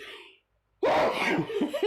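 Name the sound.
sneeze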